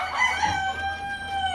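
Plymouth Rock and Orpington cross chickens on a farm: a rooster's long, loud crow carries through most of the moment, with soft hen clucking underneath and no talking.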